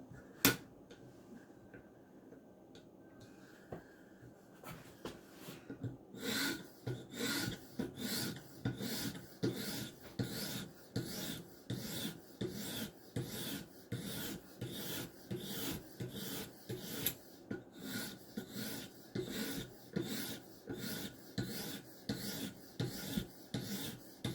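A Maxamet steel knife is stroked across Edge Pro Matrix sharpening stones, making a quiet, steady series of rasping passes that grow more regular partway through, close up and without talk.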